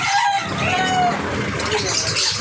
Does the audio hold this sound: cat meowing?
no